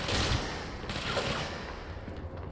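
Gunfire in the video game Control, a muffled, dense rattle of shots blending into a noisy wash of combat effects, moderately loud and fading slightly toward the end.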